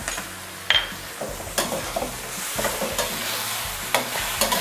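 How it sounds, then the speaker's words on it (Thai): A spatula stirs Thai basil chicken liver stir-fry in a hot pan, giving repeated scraping strokes over a steady close sizzle, with an occasional clink of metal. "คนส่วนผสมให้เข้ากันเลยค่ะ"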